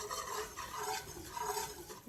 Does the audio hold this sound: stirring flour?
yes